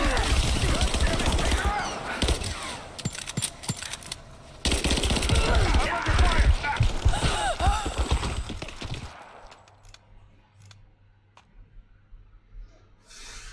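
Heavy gunfire in Rise of the Tomb Raider, dense automatic bursts and crackling shots for about nine seconds with a short gap midway, then dropping away to a quiet low hum.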